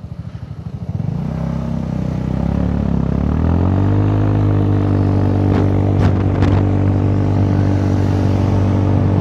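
A Honda Forza 300 scooter, recently fitted with new engine mounts, revs from idle up to around 6,000 rpm at half throttle and holds a steady, loud, close drone, with a few sharp clicks near the end.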